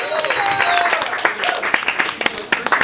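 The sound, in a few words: audience applause at a comedy open mic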